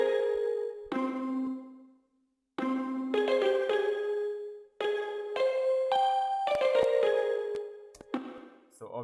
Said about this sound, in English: So together the two sounds like this.